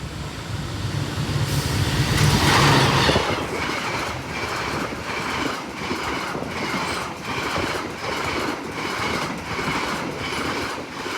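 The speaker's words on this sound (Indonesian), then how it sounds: "Argo Sindoro dari stasiun Gambir dengan tujuan akhir stasiun Semarang Tawang, menggunakan kelas full eksekutif atau K1 New Image ya teman-teman, dengan lokomotif standar" An Argo Sindoro passenger train of executive-class coaches hauled by a CC206 locomotive passes close by, with a loud steady rumble and a regular clickety-clack of wheels over rail joints and no talk.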